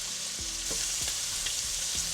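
Jumbo shrimp fry in a hot pan, a constant bright sizzle with a few soft clinks and scrapes, close and steady without any voice.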